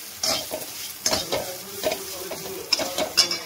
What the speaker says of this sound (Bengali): এবার ভেজে রাখা যে সুজিটা আছে এবার আমি এর মধ্যে দিয়ে দেবো, দিয়ে ভালো করে নেড়ে নেব।